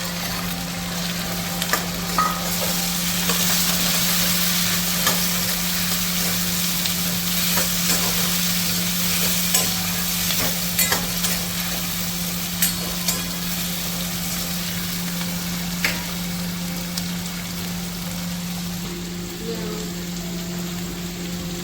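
Tomatoes frying in a pan for rajma, heard as a loud, continuous crackling sizzle with a steady hum underneath and intermittent spoon clicks from stirring. The sound carries on for a long stretch without speech.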